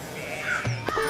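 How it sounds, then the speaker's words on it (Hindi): Crows cawing in a story sound effect, a few harsh calls rising over a steady background bed, moderately loud, no talking. "चिड़िया चहक रही है।"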